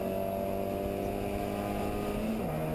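A Ford Fiesta race car in the Scottish Fiesta Championship at Knockhill rounds the hairpin, its engine holding a steady mid-distance drone and then dropping pitch as it changes speed, with circuit noise behind.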